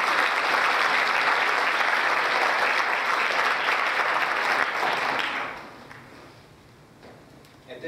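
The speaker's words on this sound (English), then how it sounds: "give yourselves a big round of applause for this" A large audience at the Sandy Hook Promise award ceremony breaks into loud, sustained applause that holds steady for about five seconds, then fades out to a quiet room with a few scattered claps.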